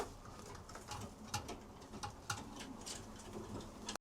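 A racing pigeon coos softly inside a loft, low murmuring coos and faint shuffling close by but quiet, with a sudden knock right at the end.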